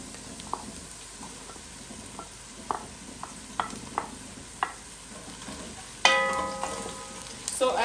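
Garlic dropped into a beef stew pot, first a series of soft separate clicks and taps, then a sudden bright sizzle that swells near the end, close and fairly quiet.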